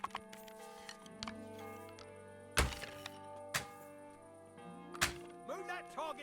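Arrows striking a target in the video game Kingdom Come Deliverance 2, several sharp, hollow thunks at intervals over a quiet tonal game background.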